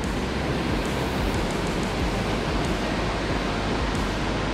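Steady broadband rush of creek water at the Frying Pan Creek crossing on Mount Rainier, a constant full-spectrum wash with no pauses, close and fairly loud.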